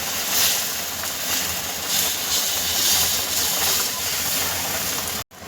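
Thalipeeth batter spread on a hot oiled griddle gives a steady, close hiss of sizzling that holds evenly for about five seconds, then cuts off abruptly just before the end.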